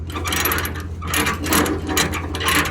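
Ratchet load binder being cranked down on an equipment tie-down chain, giving rapid repeated metallic ratcheting clicks in several close, loud bursts with no talk.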